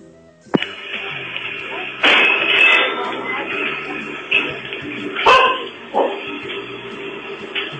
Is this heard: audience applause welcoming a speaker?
no